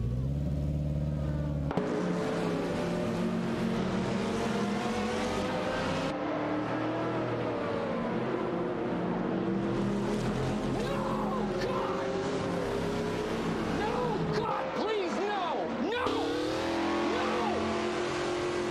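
Race cars in a video game roar past, with loud engines revving and shifting in rising and falling pitch sweeps, overlapping engine notes and brief tire squeals throughout.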